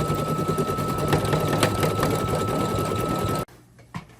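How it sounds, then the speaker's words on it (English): An embroidery machine stitches letters with a loud, fast, steady mechanical whirring and clatter close by, then abruptly stops, leaving a brief quiet with a small click. "Okay, it's finished embroidering."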